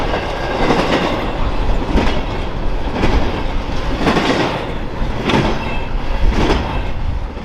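A CSX freight train rolls past close by in a snowstorm, a loud continuous roar of rail cars with regular clickety-clack beats from the wheels crossing rail joints.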